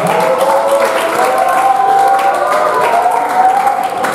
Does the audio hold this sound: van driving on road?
no